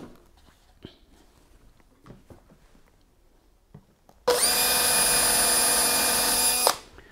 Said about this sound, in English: So I'm going to just pre-drill.